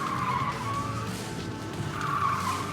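A Mazda MX-30 launching off the line on a timed course, with short tire squeal and skidding over a steady drive hum, close and brief.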